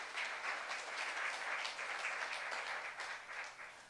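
A church youth congregation claps together in a dense, continuous wash of many hands, steady and moderately distant for about four seconds, with no voices over it.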